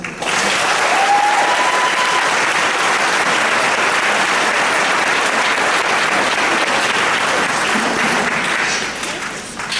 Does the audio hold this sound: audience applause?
yes